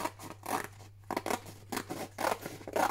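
Scissors snip through paper napkin tags in a quick series of crisp cuts with short pauses, close and fairly loud, with no talking.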